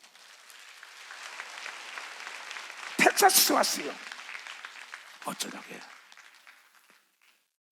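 Church congregation at a mountain revival Sunday service bursts into loud applause for a visiting member from Texas, the clapping swelling then fading, followed by a shorter second burst, all with someone talking in Korean before and over it.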